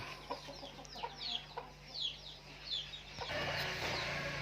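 A fighting rooster gives a series of short, faint clucks and squawks in brief bursts, followed by a rise in rustling background noise.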